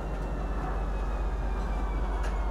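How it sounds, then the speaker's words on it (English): A train pulls into a station in the video game Star Citizen with a steady, loud low rumble and continuous rolling hum, no voices over it. "watch your step when disembarking the train."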